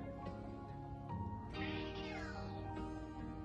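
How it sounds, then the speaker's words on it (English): A needy gray house cat whining indoors with a few drawn-out meows and cries, faint and close, over a soft musical background. "My cat's whining."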